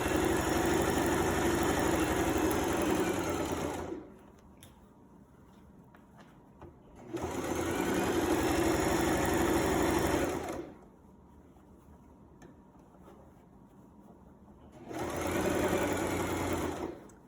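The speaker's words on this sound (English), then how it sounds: "Be sure that your shoulder seam is open. And continue sewing." A sewing machine stitches a shoulder seam in three steady whirring runs, each several seconds long, with quieter pauses between them. The sound is close and loud, and no one speaks.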